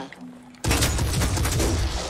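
Rapid gunfire from a squad firing in the turn-based strategy game Phoenix Point, a loud, dense burst that starts abruptly after a quiet moment and keeps rattling to the end.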